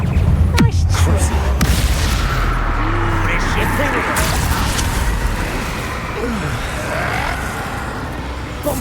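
A Bombarda spell explosion in the video game Hogwarts Legacy, with loud booming bursts near the start over continuous rumbling game action and character voices.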